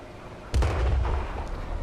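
Artillery shells land close by in World of Tanks, a sudden heavy blast after a quiet stretch, then sustained rumbling detonation with a second crack near the end, loud and alone.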